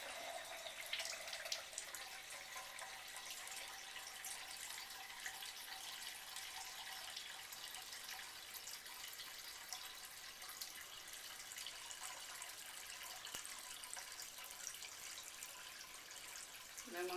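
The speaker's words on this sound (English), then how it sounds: "go ahead and let it fill up to the 1 liter mark or thereabouts" Cold water running steadily into the reservoir of a Kangen SD501 water ionizer, a continuous hissing, splashing flow heard up close with no talking over it.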